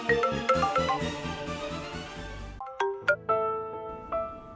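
A phone ringtone sounds while a call is being placed, a bright melodic run of chiming notes followed by a few separate ringing tones, clear and alone.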